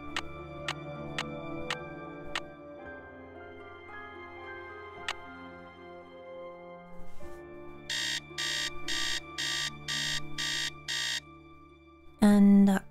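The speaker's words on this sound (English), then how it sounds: "We'll set the alarm" Electronic alarm clock in the video game Nancy Drew: Secret of the Scarlet Hand, beeping in rapid bursts near the end after soft game music and chime tones, loud and close with no talk.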